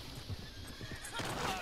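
A horse in the video game Red Dead Redemption 2 whinnies with clip-clopping hooves, fairly faint, rising toward the end under background game sound.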